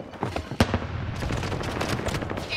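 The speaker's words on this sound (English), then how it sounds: "They're shooting at me." Gunfire in a video game: a sharp nearby shot followed by a steady stream of rapid automatic fire, loud and continuous over busy background game noise.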